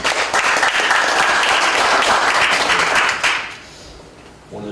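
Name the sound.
audience applause welcoming a speaker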